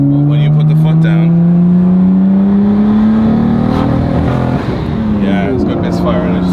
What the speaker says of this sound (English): Kind of a constant misfire, isn't it?